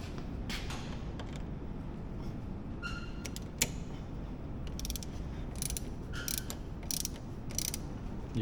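A ratchet tightens the drain plug on a Polaris Sportsman 450 ATV, giving short runs of quick metallic clicks close by over a faint background rumble.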